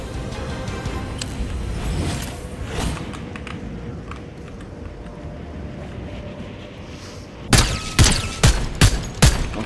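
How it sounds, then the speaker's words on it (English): Gunfire in the video game Fortnite, with a rapid string of five or six loud, close shots near the end after a stretch of rumbling, creaking movement noise. "I missed most of my shots"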